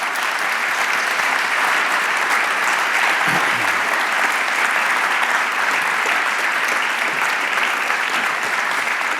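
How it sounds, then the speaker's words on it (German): A large auditorium audience at a University of Bonn public lecture evening welcomes the rector onto the stage with dense, sustained applause, loud and unbroken throughout. "Einen großen Applaus für unseren Rektor, Professor Dr. h.c."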